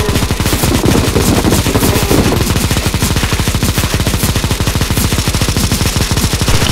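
Sustained rapid automatic gunfire from a zombie escape boss fight in the video game CSGO, loud and continuous with dense rhythmic bursts throughout and no pauses.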